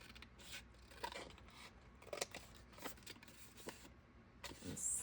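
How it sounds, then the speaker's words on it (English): Scissors snipping through paper for a tea-time junk journal, a series of soft, close crisp cuts at an uneven pace against a faint background hiss. "I'm going to cut it down some"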